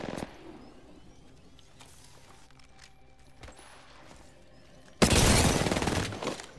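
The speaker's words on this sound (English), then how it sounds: "Opening fire." Video game gunfire opens with sparse faint clicks and shots, then a loud, dense burst of firing erupts in the last second and a half and holds until the end.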